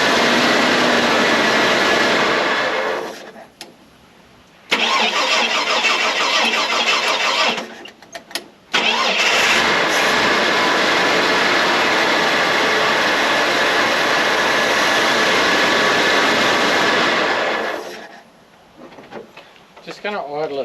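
A flood-damaged classic car engine cranks loudly, catches and runs, cuts out and restarts between short pauses, and then settles into a rough idle, with a voice heard during the gaps.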